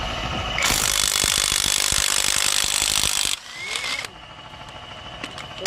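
A Lvdian impact wrench hammers loudly for about three seconds, rattling rapidly on a flywheel bolt. It then cuts out, leaving quieter mechanical clicks and shop noise.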